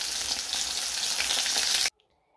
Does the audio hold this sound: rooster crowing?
no